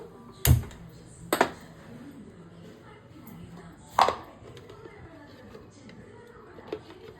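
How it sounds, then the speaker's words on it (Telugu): Curry leaves are cut with a knife on a board, three sharp separate chops spaced out over several seconds with a faint fourth near the end, against quiet kitchen background. "ఇందులో కొంచెం కరివేపాకుని కట్ చేసి వేయాలి."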